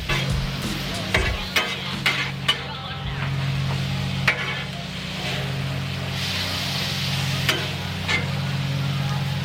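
Philly cheesesteak meat and bread sizzle on a Blackstone griddle, a steady frying hiss under repeated scraping and stirring clicks from a spatula, with no talking.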